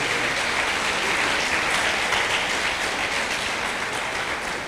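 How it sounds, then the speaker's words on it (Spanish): A church congregation applauding the young people: dense, sustained clapping from many hands filling the room at a steady level throughout. "Le damos un fuerte aplauso a los jóvenes"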